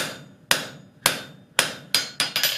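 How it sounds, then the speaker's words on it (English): About six sharp, ringing hammer blows strike hot steel on an anvil while a flux spoon is forged, spaced evenly at first and then quickening into a closer cluster at the end, each clang decaying briefly before the next. "I can bring it back up to heat with hammering"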